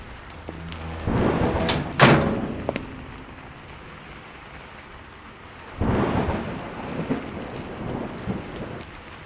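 A thunderstorm with two big rolls of thunder, one near the start and a second after a pause, each a loud sharp crack that fades into a long rumble over a bed of steady rain.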